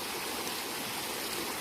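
A small river flows over rocks in a steady, loud, close rush of broadband water noise without pauses or voices.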